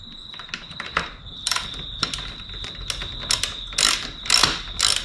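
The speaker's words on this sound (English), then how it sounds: "Do this nut up." A wrench ratchets rapidly while a nut on a dirt bike wheel is tightened, producing close, crisp clicking bursts in short irregular runs.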